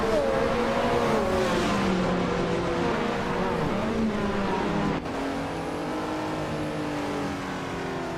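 Race car engines roar together at a race start, a dense, loud, sustained drone with rising and shifting engine pitches and no pause throughout.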